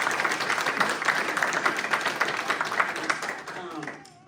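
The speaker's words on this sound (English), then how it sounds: "Y'all can clap for that." An audience at a book launch breaks into applause, clapping in a busy, uneven patter that gradually fades toward the end as a voice starts speaking.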